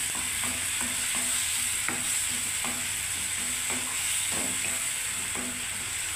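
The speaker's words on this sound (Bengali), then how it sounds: "এটাকে আমি একটু ভালো করে বেশ কষতে থাকবো" Spiced gravy for raw banana kofta curry, with turmeric and coriander powder, fries steadily in oil as a spatula scrapes the pan in regular rhythmic strokes, a constant hiss underneath and no voices.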